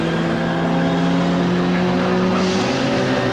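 Historic Formula Junior single-seater race cars roar through Clearways at Brands Hatch, engines loud and close, one car's note rising and shifting as it passes.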